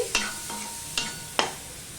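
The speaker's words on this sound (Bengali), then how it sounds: "এবার টমেটো পেঁয়াজ এগুলো ভালো করে আমি ভেজে নেব" Chopped onion and tomato being stirred as they fry in a pan, with three distinct scraping strokes spaced across a soft background sizzle and no talking.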